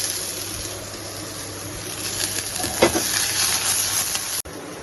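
Garlic, ginger and onion frying in a pan give a steady, close hiss of oil, with a brief clatter of the ingredients going in partway through and no talking.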